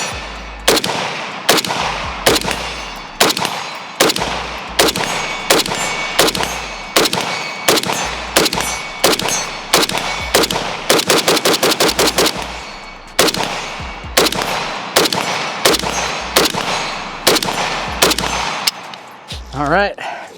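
A Hellpup AK rifle fires round after round, loud sharp reports in a fairly steady semi-automatic rhythm with one rapid burst in the middle, close by and outdoors, continuing through full magazines.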